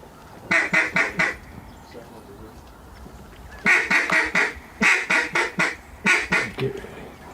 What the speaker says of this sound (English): Bigger ducks are starting to move a little bit.